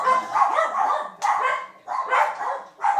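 Several dogs, among them a fluffy one, bark in repeated bursts at someone near a home property, close and loud, with short pauses between the volleys.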